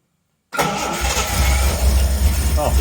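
Reliant Scimitar GTE SE6A classic car engine starting on full choke, firing up abruptly after silence and settling straight into a loud, steady, close idle.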